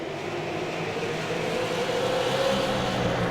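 Stock race cars circle South Boston Speedway, their engines a steady, moderately distant roar with a slight rising whine as the pack runs side by side down the backstretch.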